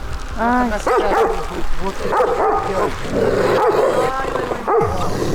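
Dog barking repeatedly outdoors in Yakutsk, Siberia, in extreme cold, with bursts of barks and a whimpering yip spread across the clip, close and fairly loud, while people talk in the background.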